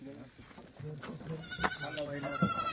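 Kathiawadi goats bleat faintly in short calls beneath continuous talk during a goat sale.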